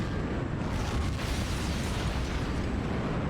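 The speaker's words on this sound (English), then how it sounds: "What are all these explosions?" Dense, continuous rumble of explosions and booms in a large video game air battle with jets and helicopters, loud and unbroken throughout with no talk.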